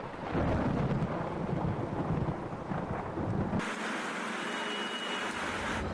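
Pre-monsoon rain falls steadily in Bihar, with a deep rolling rumble of thunder under the downpour that cuts off partway through, leaving the rain hiss alone.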